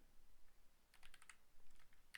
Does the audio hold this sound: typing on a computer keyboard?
yes